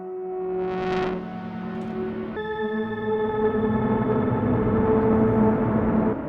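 A modular synth drone runs through a low-pass filter with reverb, its resonance sweeping up briefly before settling into a dense, sustained tone with bright harmonics, loud and unbroken.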